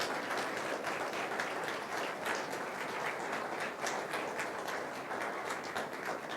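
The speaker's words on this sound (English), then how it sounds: "Round of applause for these guys." An audience applauds Founder Institute graduates at a business pitch event, a steady dense patter of many hands clapping throughout, evenly loud with no voices over it.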